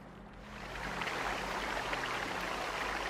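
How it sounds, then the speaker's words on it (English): A small stream in a mountain setting in Pillars of Eternity, soft continuous running water with a low hum beneath, rising slightly after the start and steady throughout, faint and without talk. "You hear running water and see a small stream that carves its way into the mountain."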